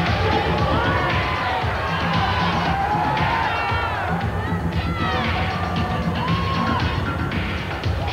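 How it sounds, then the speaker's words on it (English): A large audience at the 1986 IFBB World Bodybuilding Championships roars with sustained cheering, whoops and shouts that fill the hall, loud and unbroken throughout. "You're not running out of applause yet, are you?"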